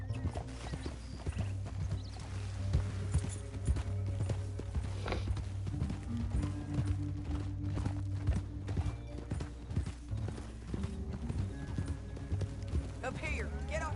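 Horse hooves clip-clop at a steady walking rhythm in the video game Red Dead Redemption 2, continuous and moderately near beneath ongoing spoken dialogue.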